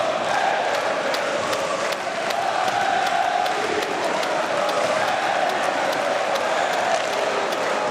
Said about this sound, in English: Lively crowd in Paris.